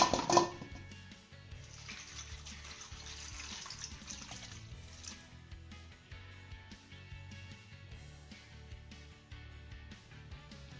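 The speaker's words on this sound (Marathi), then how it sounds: "तर सर्वात अगोदर आपण हे आवळे स्वच्छ धुवून घेऊयात." Half a kilo of fresh amla (Indian gooseberries) being washed in water in a kitchen, with steady running and sloshing water from a tap into a sink, fairly close and continuous, with no talking.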